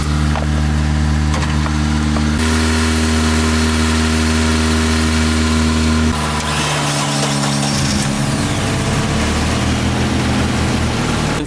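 A stock-ish Nissan 240SX engine fires and settles into a loud, close, rough idle, then shifts pitch briefly as it revs.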